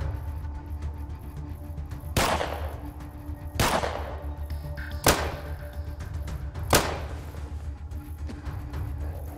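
Gunfire in the video game ATOM RPG: four sharp, loud shots spaced a second or two apart over a steady low background, with no talking.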